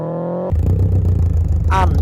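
Toyota GR86 engine revving with a modified exhaust, a loud, steady low rumble close by that starts abruptly after a brief higher tonal hum, with a short rising whine near the end.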